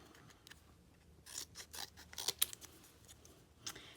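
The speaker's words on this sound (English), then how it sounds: "and cut a square because I want to make a circle." Scissors snip a square out of orange paper in a quiet room, giving a run of soft, close cuts and a few sharper crisp snips, with faint paper rustle between them.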